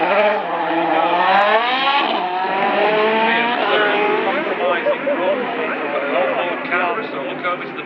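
A race car at the Cholmondeley Pageant of Power accelerates past, its engine note climbing through rising harmonics and staying loud and close, while a commentator talks continuously over it.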